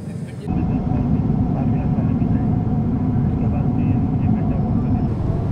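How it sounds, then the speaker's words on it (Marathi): Steady, loud airplane cabin drone during flight as the aircraft begins its descent toward landing, a continuous low rumble and hiss that holds evenly from start to finish. "आता हळूहळू मला वाटतं विमान खाली उतरायची तयारी करत आहे"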